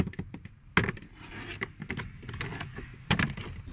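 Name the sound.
prying plastic blower motor cover off with pry tool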